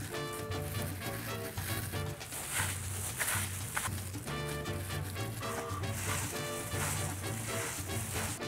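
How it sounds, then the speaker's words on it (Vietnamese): Seafood cream spring rolls frying in hot oil, a steady dense sizzle running throughout under background music, with no voices. "bước cuối cùng là mình cho nem vào trong dầu để chiên"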